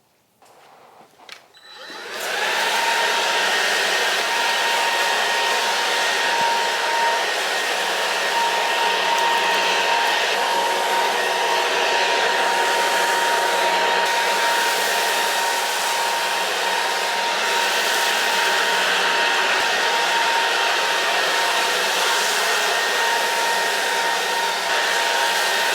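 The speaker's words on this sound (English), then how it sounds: "Well, I got it set back into blower, or as they call it, sweeper mode." A Black & Decker cordless sweeper vacuum switches on in blower mode and settles into a loud, steady, close whine with a constant tonal hum that runs unbroken for over twenty seconds.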